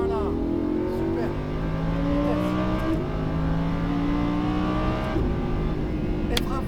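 Lamborghini Huracán accelerating hard on a race track at Fay-de-Bretagne, engine note climbing in rising sweeps through several gear changes, loud and close from inside the car, with a voice talking over it.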